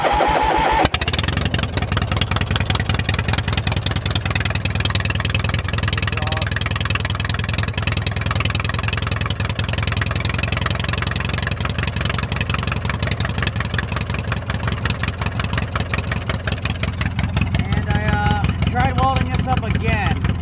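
A small engine on Dinky catches and starts after fuel reaches the line, then runs with a fast, steady mechanical chatter at close range for the rest of the time, with voices talking over it.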